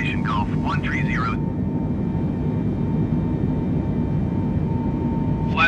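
A Boeing 747 takes off from Toronto Pearson in a heavy storm in Microsoft Flight Simulator 2020, a loud, steady engine and wind rumble lasting throughout, with a brief radio-style voice at the start and again at the end.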